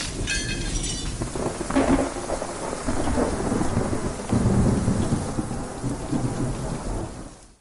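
A thunderstorm with steady heavy rain and deep rolling thunder rumbling through, loud and close, no voices.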